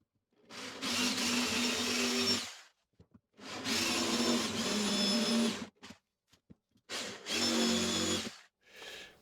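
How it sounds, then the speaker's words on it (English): A jigsaw cuts wood in a tiny bathroom in three loud, buzzing bursts of a few seconds each, separated by short pauses and brief taps. "Jigsaw time."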